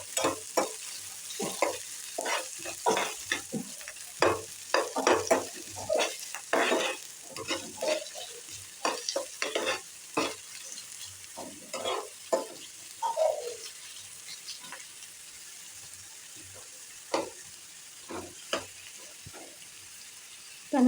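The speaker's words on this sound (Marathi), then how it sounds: "कांदा चांगला परतून घ्यायचा आहे." Chopped onion frying in a pan over a medium gas flame, stirred with repeated scraping strokes in an uneven rhythm over a steady sizzle. The strokes are close and fairly loud, and there is no talk.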